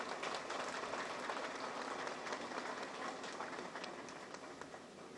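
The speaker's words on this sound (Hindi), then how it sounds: "ये तो अफसरान के लिए जो है ना तालियां बजनी चाहिए आपकी मैनेजमेंट के लिए" Dense, steady applause from an audience at a Karachi Port Trust service regularization ceremony, a continuous wash of many hands clapping that stays loud and even for the whole stretch, with no talking.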